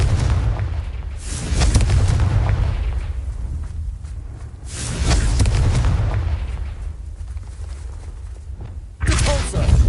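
Confringo fire spell blasts in Hogwarts Legacy, three separate loud booming explosions, each swelling into a low rumbling roar that gradually fades before the next, with the last one cut off at the end.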